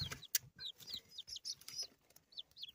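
Newly hatched Leghorn chicks peep in quick, high, chirping bursts, close and fairly faint, with short pauses between calls.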